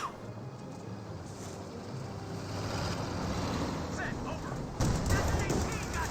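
Rifle grenades and small-arms fire in Company of Heroes 2 under a continuous noisy battlefield bed, building to a louder burst of gunfire and explosions toward the end.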